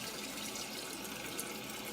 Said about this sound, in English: We're taking our water from the ProPure water filter.